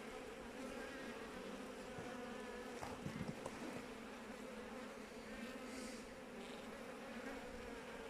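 A dense, steady drone of honeybees swarming around an open hive during an inspection, continuous and close, with a few brief knocks and rustles midway.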